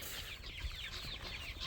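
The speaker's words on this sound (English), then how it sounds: "Oh, that rooster got you, Juju." A rooster in a farmyard giving a short burst of soft, rapid clucks close by, lasting under two seconds with no talking.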